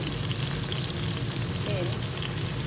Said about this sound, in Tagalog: Lagay ang ating isda.